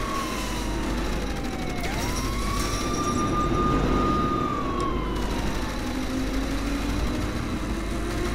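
A wailing police siren in the video game Saints Row: The Third sweeps slowly up and down in pitch over a constant engine rumble, loud and continuous.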